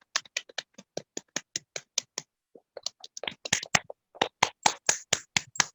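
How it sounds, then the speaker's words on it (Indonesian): A small class of children claps, starting with sparse rhythmic single claps, pausing briefly, then building into quicker, louder overlapping applause. "Tepuk tangan untuk kita semua."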